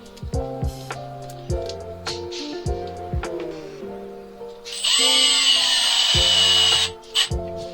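A power drill drives small screws while fitting a 12-volt bilge pump: several short bursts of whirring motor with brief stops between them, then one longer steady run near the end, close and fairly loud with no talking.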